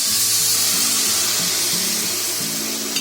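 Water poured into a hot kadai of jeera aloo masala gives a loud, continuous hiss and sizzle, close up and steady with no voices.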